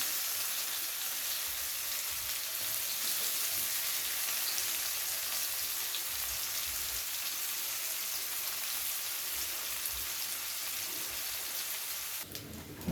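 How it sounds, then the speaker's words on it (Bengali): Sliced onions with two cloves fry in oil for a Bengali katla fish curry, giving a steady, close, dense sizzle that continues unbroken for about twelve seconds before a brief shift at the end. "পেঁয়াজটাকে খুব ভালো করে লাল লাল করে ভেজে নেওয়া হয়ে গেছে"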